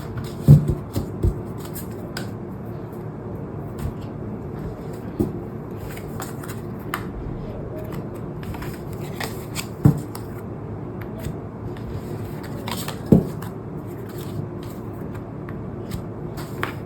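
Tarot cards being shuffled by hand in a continuous soft riffling texture, with occasional sharper taps and clicks, close and with no talk.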